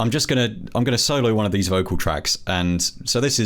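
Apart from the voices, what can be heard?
No everyday noises stand out.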